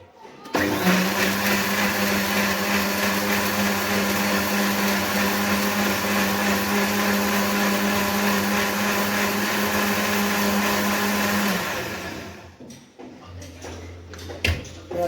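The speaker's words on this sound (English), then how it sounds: "We are going to put in our blender and add another thing." A blender whirs steadily and loudly for about eleven seconds as it blends apple and milk for pancake batter, then cuts off, followed by a few soft kitchen clunks and handling noises.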